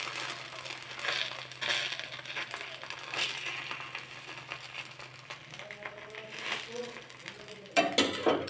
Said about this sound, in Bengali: খুন্তিতে করে চার সাইডে ছড়িয়ে নেব